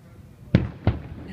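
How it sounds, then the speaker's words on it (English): Two fireworks bursts outdoors, a pair of sharp booming pops about a third of a second apart, fairly close and loud over faint background noise. "Look at all the fireworks."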